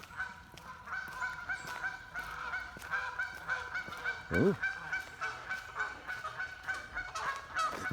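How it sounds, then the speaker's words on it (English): Geese honk repeatedly from nearby during an outdoor morning walk, loud calls in a steady ragged chorus with a couple of stronger honks midway; a voice briefly speaks. "some geese over there."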